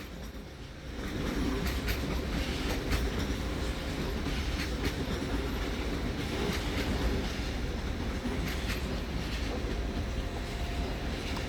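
ÖBB Mireo regional train on the RB 87 service to Donauwörth at Munich main station, a steady loud rolling rumble with rhythmic wheel clicks and faint squeals, starting after a quieter first second.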